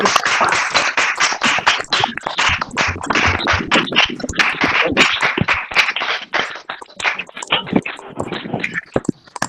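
Participants in a virtual meeting clap together, many overlapping hand claps in a dense, uneven patter that stays loud and close for several seconds before thinning slightly toward the end.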